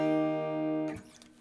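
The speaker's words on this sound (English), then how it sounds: "Major sounds like this." A sustained major chord rings on guitar for under a second, clear and close, then cuts off into faint noise and a brief voice.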